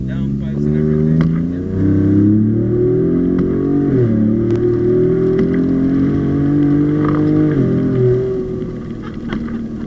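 A Ford Raptor pickup fitted with a Corsa exhaust and downpipes revs loud and close, its deep engine note rising and falling in long swells, with someone talking over it.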